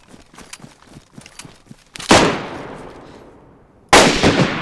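Gunfire in the video game DayZ: faint footsteps give way to two loud, sharp shots about two seconds apart, the first trailing off in a long echoing decay.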